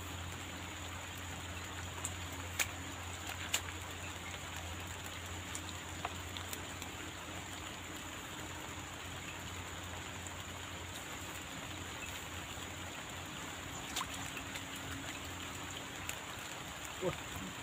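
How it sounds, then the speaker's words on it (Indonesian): Rain falls steadily as an even, continuous hiss at a fishing spot in the morning. It carries on unchanged for the whole stretch, with a few faint drips and taps on top. "Hujan bos, masih jam segini hujan lagi."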